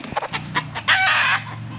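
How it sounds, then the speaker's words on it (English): Chickens cluck in short bursts around a chicken coop, fairly close, followed by a longer, louder crowing-like squawk near the end, with faint rumbling in the background. "There's chickens everywhere."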